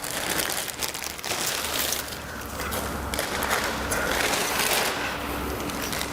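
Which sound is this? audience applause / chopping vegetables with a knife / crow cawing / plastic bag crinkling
plastic bag crinkling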